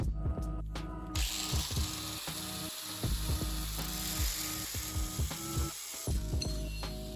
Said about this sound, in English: We're just gonna come through and cut this C-clamp in half right here.